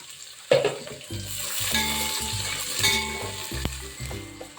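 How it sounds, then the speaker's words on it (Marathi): Onion sautéing in a pan with whole spices for matar paneer pulao makes a close, steady sizzle and crackle, with a few stirring scrapes and clanks against the pan and no talking. "तरी इथे तुम्ही बघू शकता की आपला कांदा हा छान परतला जातोय"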